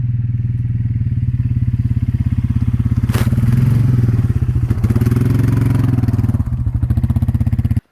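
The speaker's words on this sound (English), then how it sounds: "I've had the bike in 4-wheel drive the whole way just because it's snowy" A 2022 Polaris 570 Trail ATV in four-wheel drive on 26-inch Duro tires rumbles loudly and steadily through snowy woods, its engine throbbing close by with clattering thumps as it rolls over logs.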